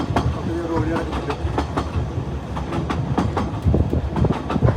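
Train rolling along rails through the Welsh countryside, with steady rhythmic clickety-clack of wheels over rail joints and a continuous rumble close by, no talk over it.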